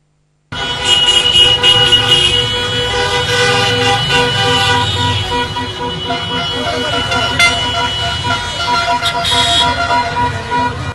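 Car horns honk repeatedly and overlap in a loud, busy street celebration in Piazza Bilotti after a football promotion to Serie B, with engines and crowd noise filling the background.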